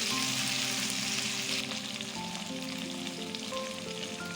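Chopped tomato and chili paste fry in a pan, a steady broadband sizzle running close and loud the whole way, with faint stirring scrapes and no voices.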